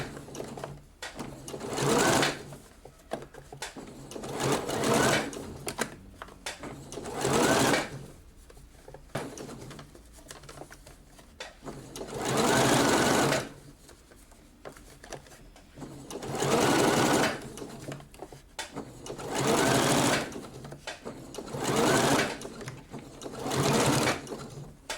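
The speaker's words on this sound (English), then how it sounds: "And then you stitch your seam allowance to the seam." A sewing machine understitches the seam allowance of a blouse sleeve, running in several steady bursts of a few seconds each, separated by short quiet pauses, close and clear.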